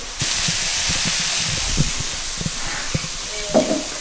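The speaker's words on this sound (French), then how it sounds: "Étape numéro 2, c'est de faire revenir les oignons avec des champignons" Onions and mushrooms frying in a pan, a steady hiss and sizzle starting abruptly and running throughout, with a few soft clinks and taps on top, no talk.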